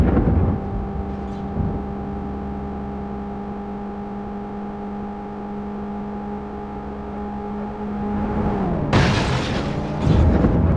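A steady engine drone from a police car in the World's Scariest Police Chases video game, then two sudden loud bangs of gunfire near the end, the second a little after the first.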